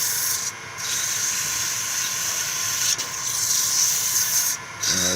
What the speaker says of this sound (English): And I'll try to stay out of the way here as I sand.